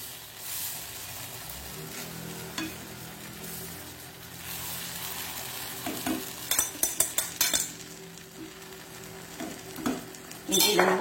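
Thin spinach and egg batter spread on a hot griddle for dosa, with soft sizzling under scraping and stirring sounds and a quick run of sharp utensil clinks against the pan.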